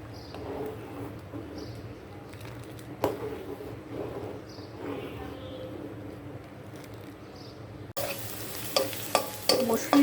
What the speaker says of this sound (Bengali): ডাল বাগার দেব, এজন্য রসুন পেঁয়াজ ভেজে নিচ্ছি।